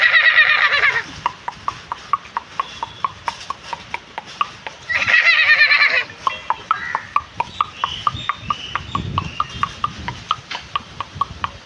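A mimicry performer vocally imitates a galloping horse, with steady rhythmic clip-clop clicks through the run and two loud whinnying bursts near the start and middle.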